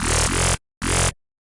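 Synth bass from NI Massive, wavetable voice-spread macro at maximum, plays two thick, bright, distorted bass stabs separated by a brief silence, the first longer with a tonal shift midway, heard alone and loud.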